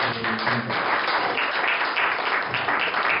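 Audience applause after a business talk, steady dense clapping from a room full of people, close and sustained with no speech over it.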